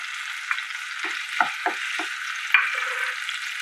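Onion and ginger fry in a pan for a home-made pudalankai kulambu. A steady, close sizzle runs throughout, with a few soft clinks and stirring scrapes scattered across it and no talking.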